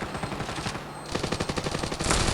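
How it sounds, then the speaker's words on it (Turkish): Rapid automatic gunfire in the mobile shooter game Standoff 2, loud and close, with tight bursts of shots rattling in quick succession and the firing growing denser toward the end. "Bir ton mermi sıkmışım dayı öl ya."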